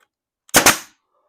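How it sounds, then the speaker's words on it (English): A pneumatic brad nailer drives a brad into wood with a single sharp, loud pop and a short hiss of air that quickly fades, alone with no talk. "Now I'll just shoot brads in that."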